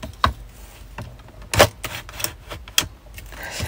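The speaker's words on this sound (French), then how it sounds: "ça découpe automatiquement les papillons" A Craftelier die-cutting machine cutting paper butterflies gives off a series of sharp mechanical clicks and clacks at uneven intervals, close and fairly loud, with no talking.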